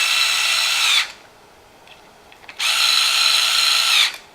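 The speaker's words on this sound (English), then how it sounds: "jump across the face plate and tighten down the screws" A cordless power drill runs in two loud bursts of about a second and a half each, separated by a quiet gap, as it drives screws into a lens face plate, with no talking.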